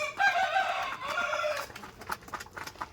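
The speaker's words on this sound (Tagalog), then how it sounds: "Yan ang aking mga alagang chicken." Pet backyard chickens clucking and a rooster crowing, a loud sustained call in the first second and a half followed by scattered nearby clucks, with no talking.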